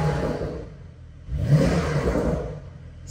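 A Porsche sports car in Sport mode revs its engine, rising to a loud surge of exhaust roar with crackling pops, close by and without talk.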